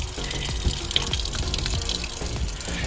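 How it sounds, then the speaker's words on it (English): Water runs steadily from the low point drains of a fifth wheel RV's wet bay in storage, a continuous close splashing gush that holds level throughout with no voices. "Well, a little bit of water coming out."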